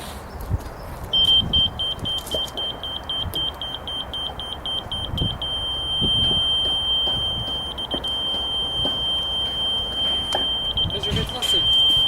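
A series of rapid high-pitched electronic beeps from a laser device, then a sustained steady tone, over low background rumble and faint handling noises.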